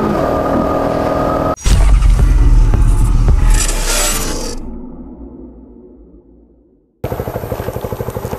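Motorcycle engine revving hard in second gear, a loud continuous roar that surges, then fades and winds down into quiet before a close steady idle resumes.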